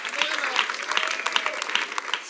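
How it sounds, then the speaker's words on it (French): A church congregation claps in applause, a bright, busy patter of many hands with a few sharper peaks, while a voice carries on over the clapping. "Applaudissez pour la parole."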